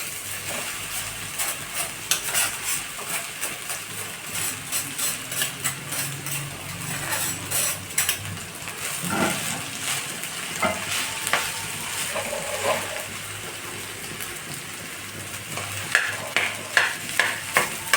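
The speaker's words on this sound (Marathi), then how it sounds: "तर राईसला पण छान मिक्स करून घ्यायचं" Rice being gently stirred into cooked vegetables in a pot for hotel-style pulao, with a constant sizzle and rhythmic close scraping of a spoon, ending in a few sharper taps.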